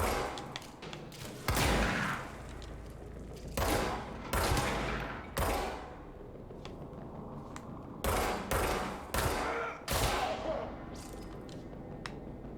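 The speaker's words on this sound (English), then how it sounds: "one of these guys has a shotgun" Enemy shotgun blasts and other gunfire in the video game Control come as loud, separate booming bursts at irregular intervals. Brief lulls fall between the shots.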